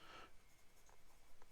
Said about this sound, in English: So I think let's do a writing sample.